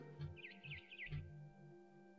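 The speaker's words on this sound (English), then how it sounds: "Then I heard chirping outside my window." Birds chirp in What Remains of Edith Finch, a short run of quick, bright tweets heard against a steady ambient tone with low rumbles beneath, moderately faint.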